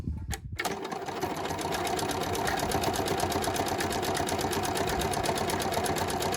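A sewing machine runs a vertical buttonhole on garment fabric, starting after a brief click and settling into a fast, steady, close mechanical whir of stitching that continues evenly to the end.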